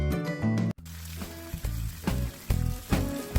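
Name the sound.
food frying in melted butter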